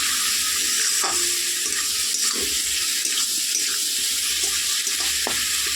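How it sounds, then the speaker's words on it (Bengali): Spices are stirred and fried in oil for a simple potato curry, a constant hiss with a few sharp spatula knocks, close and even in level, no speech. "তো দিয়ে এবার এটাকে ভালো করে একটু কষিয়ে নেব"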